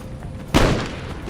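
Musket volley in Empire: Total War during a multiplayer battle, one sharp booming report with a rolling tail over faint background battle noise.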